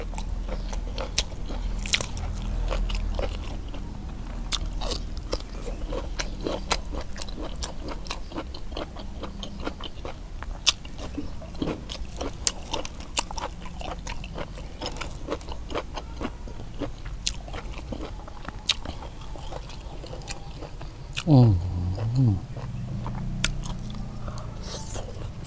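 Crunchy, crispy pork being bitten and chewed close to the microphone, giving a long run of sharp, dry crackles and crunches in an irregular rhythm with no talking.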